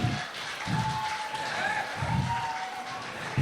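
Wedding guests clap at a celebration, a steady wash of applause that runs the whole time, while a voice speaks over it.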